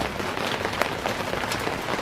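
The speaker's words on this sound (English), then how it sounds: "We have a rain pouring day today." Heavy rain pours steadily, a dense, loud, continuous hiss of drops striking surfaces nearby, with no voices.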